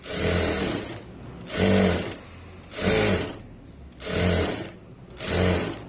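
A sewing machine stitches thread piping in five steady bursts, each a short whirring run separated by brief pauses, close and clear with no talking.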